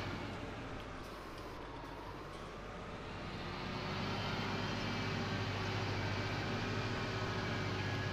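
A steady tractor engine drone in Farming Simulator 19 during slurry spreading holds a constant hum with slight pitch shifts throughout.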